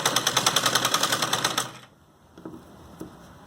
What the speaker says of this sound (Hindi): साथ साथ मोड़ेंगे और घोटा रख के हम सिलाई लगाएंगे